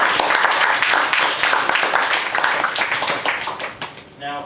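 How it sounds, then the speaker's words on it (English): An audience at a magic show applauds a card trick, a dense burst of clapping from many hands that fades slowly over a few seconds before a voice begins speaking. "Shall we clap it?"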